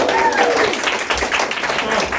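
Audience at an open mic night with local authors and poets claps briefly, a short burst of applause with voices mixed in.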